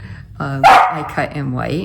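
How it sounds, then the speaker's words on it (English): A dog barks in a quick burst of sharp yips and barks, loud and close, overlapping with someone talking during card making indoors. "I'm really sorry for the barking."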